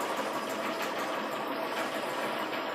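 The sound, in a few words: sewing machine stitching along a seam line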